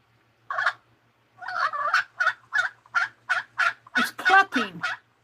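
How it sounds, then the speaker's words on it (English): A male turkey clucking in a quick series of about ten short, sharp calls after a single opening call, the last few louder and harsher, heard alone and fairly close. "It's clucking, it's not gobbling. And I said male turkey."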